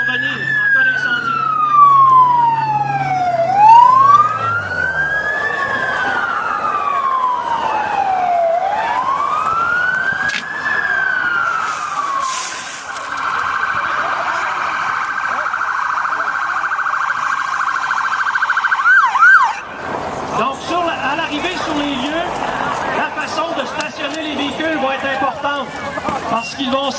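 A fire truck's emergency siren wails loudly nearby, sweeping up and down in long rising and falling cycles, then shifting to a steady tone before stopping abruptly near the end, with street noise and voices around it.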